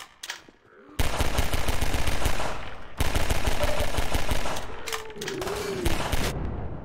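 Sustained automatic gunfire in a Half-Life 2: Episode 1 firefight with Combine soldiers, in two long loud bursts broken by a short gap, with brief voices and game effects mixed in.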